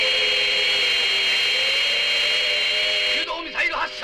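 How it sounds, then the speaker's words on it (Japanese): An emergency alarm in an Eightman anime episode blares as a loud, continuous electronic tone with steady bands, then cuts off and speech follows. "はっ、非常警報です。"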